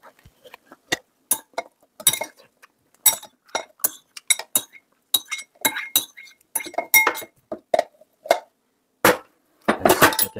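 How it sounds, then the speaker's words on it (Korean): Pieces of cooked carrot drop and clatter into a blender jar, making a rapid, irregular run of sharp clinks and knocks, close and fairly loud. "그래서 당근을 믹서기통에다가 넣습니다."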